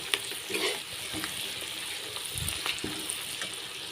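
Soft, steady sizzle of spices frying in hot oil for a chicken curry, with occasional light clinks and stirring sounds, quiet and close.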